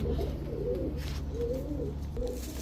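Giribaz high-flyer pigeons cooing in repeated low, throaty rolling calls at close range, several coos following one another over a steady background hum, with no voices.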